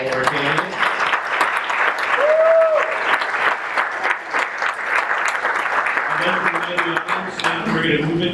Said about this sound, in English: Give them another round of applause for all our candidates.